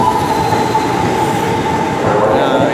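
A train at Rangkasbitung railway station rumbles steadily and continuously close by, a sustained metallic tone riding over the low running noise of the cars.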